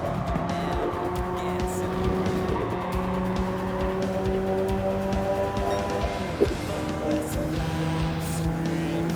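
A racing car in a video game brakes hard, its engine note stepping down while tires squeal and skid, with one short knock partway through; loud and continuous.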